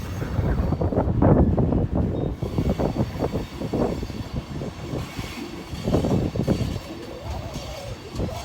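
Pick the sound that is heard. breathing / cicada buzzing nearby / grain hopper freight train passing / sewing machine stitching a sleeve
grain hopper freight train passing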